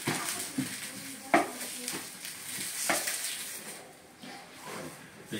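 Fish fries in a spoonful of oil on a multimaker tawa, a faint close sizzle broken by several light clinks and scrapes of a utensil on the pan.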